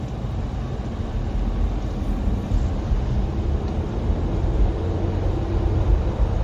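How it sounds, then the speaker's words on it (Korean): Inside a Kia Niro hybrid while it accelerates in city traffic, the petrol engine cuts in as a steady, fairly loud low drone and road rumble that fills the cabin, with no talk. "그냥 바로 엔진이 개입을 합니다."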